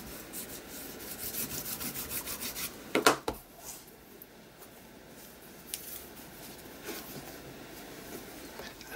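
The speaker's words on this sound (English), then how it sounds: "just take your bone folder and just give it a gentle rub" A bone folder is rubbed gently back and forth over the fabric spine of a handmade mini journal, making a soft, close scraping rasp with one sharper scuff in the middle before it fades to faint rubbing.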